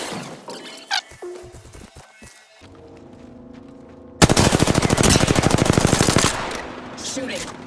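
Video game gunfire: a few isolated shots and clicks, then a loud, sustained rapid-fire automatic burst lasting about two seconds, followed by scattered game effects, with a voice briefly speaking.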